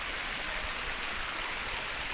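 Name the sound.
flowing cold water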